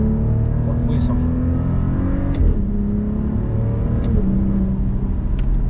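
A Maserati Quattroporte Modena engine drones and revs while driving, with shifting pitch and road rumble, and a voice talks over it.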